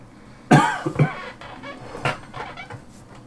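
A sharp, close cough bursts out, followed by a second smaller cough and a few weaker throaty hacks trailing off.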